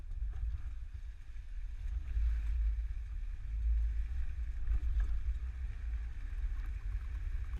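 A 2021 Nissan carrying a Hollywood Racks Destination four-bike rack rolls over alternating speed bumps, a steady low rumble of road and cabin noise with faint rattles and gentle thumps.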